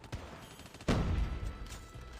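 Shotgun blasts in the mobile shooter game Call of Duty Mobile: a brief shot followed by a heavy booming blast with a lingering rumble, loud and close, with no talking.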